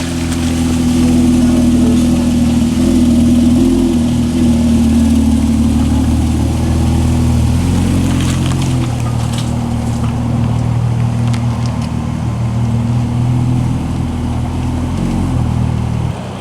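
An eleven-wheeled vehicle's engine runs steadily after starting, a loud, continuous low rumble close by that holds an even idle throughout with no talk over it.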